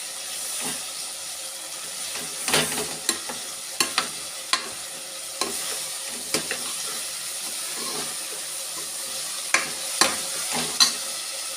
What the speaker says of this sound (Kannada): ಟೊಮೊಟೊ ಚೆನ್ನಾಗಿ ಫ್ರೈ ಆಗಿದೆ